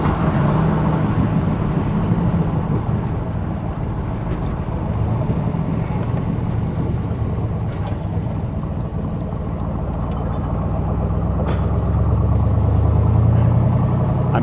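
A 1967 L89 427 Corvette with three carburetors rumbles steadily from the cabin while driving, a deep continuous engine drone that swells slightly toward the end.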